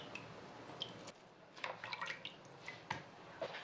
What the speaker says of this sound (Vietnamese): Anh chị và các bạn sẽ vắt vào đây nửa trái chanh